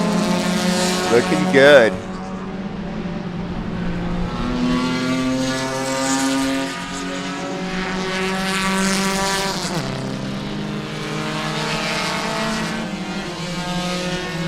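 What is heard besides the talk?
race cars racing at Sebring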